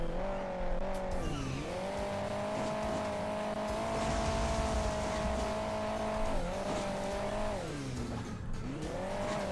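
Continuous engine drone of a vehicle in the mobile game Hill Climb Racing 2, rising and falling in pitch as it revs and slows across a race, steady and close throughout with no talk.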